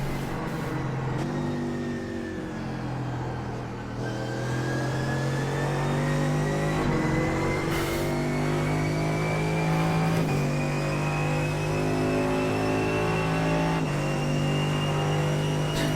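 A Mercedes AMG GT3 race car in iRacing, driven at Silverstone, drones steadily as its engine rises through the gears, with several upshifts marked by brief dips before the pitch climbs again; loud and continuous, no talk.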